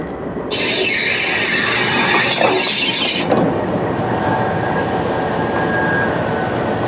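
A train hauled by GU20 locomotive 4565 rumbles past close and loud, with a bright hiss and squealing wheels that cut off after a few seconds, leaving a lower steady rolling rumble.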